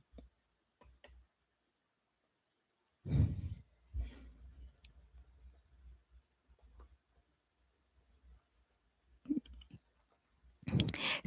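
Keys tapped on a computer keyboard while using the Hacker Typer website: sparse, quiet clicks arrive in short bursts separated by long pauses, with a few louder thumps.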